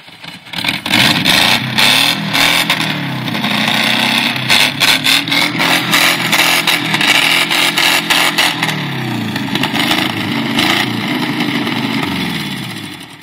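Loud Volkswagen van engine with a badly failing exhaust revving repeatedly, rough throaty blats rising and falling over a lumpy idle, close and dominant throughout, with brief crackles between revs.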